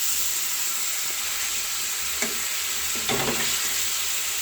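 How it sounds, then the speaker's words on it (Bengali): Asafoetida, chili powder and ginger paste sizzle and sauté in hot oil in a pan, a steady loud hiss with a few brief stirring scrapes. "একটু হিং দেব, লঙ্কা গুঁড়ো, আদা বাটা, অল্প একটু জল দিয়ে মশলাটা কষে নেব।"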